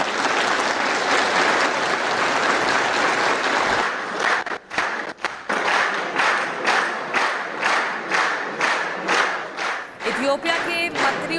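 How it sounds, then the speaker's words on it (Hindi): Applause breaks out in the Ethiopian parliament: a loud, dense roar of many hands at first, then settling into steady rhythmic clapping in unison, beat after beat, with faint crowd voices. "उसके बाद वहां पर तालियां बजी।"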